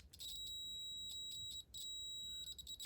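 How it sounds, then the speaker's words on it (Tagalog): Continuity beep from a multimeter with its probes on an automotive OCV/VVT solenoid terminal: a steady high-pitched electronic tone held for most of the moment, briefly dropping out twice, quiet and close, with no talking. "So pag nagkakaroon ng beep yung ano, multimeter, good."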